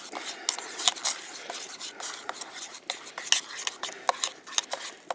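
Stirring food in a Stansport stainless steel solo cook pot, with repeated scraping and clinking strokes of a utensil against the metal, close and fairly quiet, steady in rhythm throughout.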